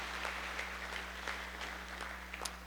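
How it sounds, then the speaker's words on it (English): Audience at a Missouri State Fair carcass sale applauding winners and exhibitors, a faint, steady patter of many hands clapping over a constant low electrical hum. "Let's give all the winners and exhibitors a round of applause"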